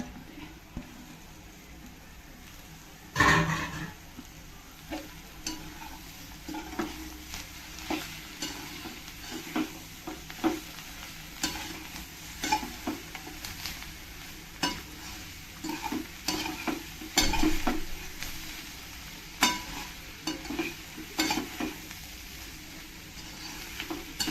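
Raw jackfruit vegetable being stir-fried in a pan, with steady sizzling under repeated scraping and stirring strokes that recur every second or two, close and moderately loud, with no talking.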